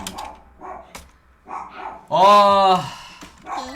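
A puppy lets out one drawn-out, high, wavering yelp-bark, loud and close, after a stretch of quieter sounds and a brief murmur.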